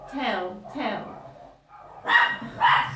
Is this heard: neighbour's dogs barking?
yes